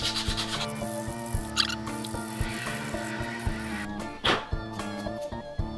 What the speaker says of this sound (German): Ich schleife jetzt wirklich alle Ecken ab.